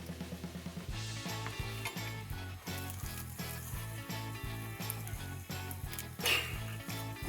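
Eggs frying in a pan give a soft continuous sizzle beneath a rhythmic repeating beat of background music, fairly faint, with a brief scrape near the end.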